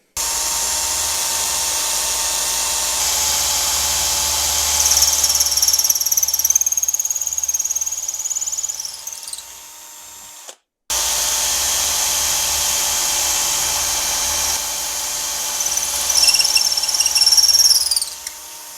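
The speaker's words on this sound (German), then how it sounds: "Und jetzt habe ich hier 2 wunderschöne Abdrücke und kann hier die Löcher reinbohren." An electric drill bores holes into wood for a headphone stand, giving two sustained high whining bursts that rise in intensity and cut off with a short pause between them.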